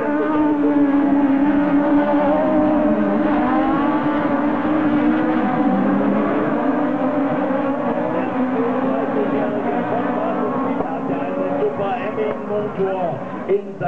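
A 1600-class buggy race car with a Ford engine racing in a heat, its engine droning steadily and loudly throughout with shifting pitch, under continuous excited commentary.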